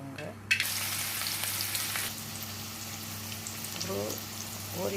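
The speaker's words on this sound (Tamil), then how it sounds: "கடாய் காஞ்சதும் ஆயில் ஊற்றி கடுகு போட்டுக்கோங்க சரியா." Mustard seeds crackle and sizzle in hot oil in a kadai, a steady bright frying hiss with a few sharper pops, heard up close with no talking.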